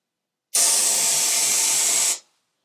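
Brake cleaner aerosol can sprays in one steady, forceful hiss lasting about a second and a half, starting and stopping abruptly, close and loud with no talk.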